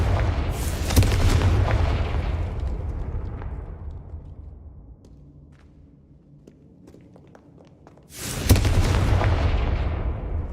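Confringo blasting spells in Hogwarts Legacy burst with deep booming explosions, one heavy blast fading into a long rumbling decay before a second loud boom erupts near the end.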